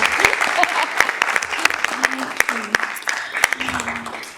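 Scattered, sparse clapping at a Sacramento City Unified School District board meeting, individual sharp claps spaced irregularly rather than a full ovation, with faint voices and murmuring underneath.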